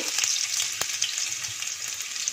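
Cumin, ginger, garlic and bay leaf frying in hot oil, a continuous close, bright sizzle with a few soft clicks of stirring and no talking.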